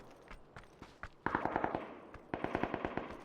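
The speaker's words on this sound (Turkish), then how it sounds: "Bana uzaktan susturucuyla biri sıkıyor anlamadım" Suppressed gunfire in PUBG rings out from a distance, a few scattered single shots followed by two quick bursts of rapid automatic fire, sharp muffled cracks repeating in an even rhythm.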